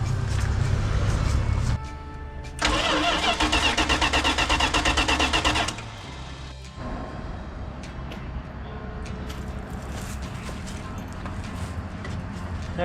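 A 1985 Dodge Ram engine cranks after the key is turned, a loud close churning of the starter that runs for several seconds, stops abruptly, then gives way to a lower steady rumble.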